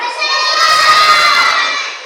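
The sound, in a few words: children shouting in a classroom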